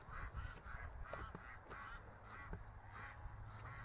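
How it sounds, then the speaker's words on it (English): Ducks crowded at a barn door quack in repeated overlapping bursts, close and steady, a whole flock calling at once. "Yeah, they're all at the door of the barn, quacking."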